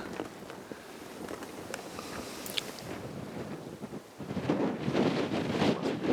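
Wind blows at a coastal spot on the Alaska Peninsula, buffeting the microphone in a steady rumble that gusts stronger near the end, with faint water sounds beneath it.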